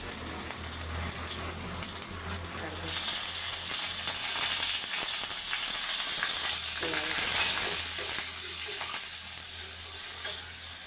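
Cumin seeds hit hot oil for an upma tempering, and a soft background sizzle swells after a few seconds into a loud, continuous crackling hiss that carries on to the end.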